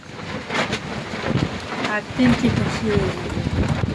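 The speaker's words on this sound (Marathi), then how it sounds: "अयो लय वारा सुटलंय" Gusty wind buffets the microphone in a steady roar at an outdoor vada pav stall, with people talking over it throughout.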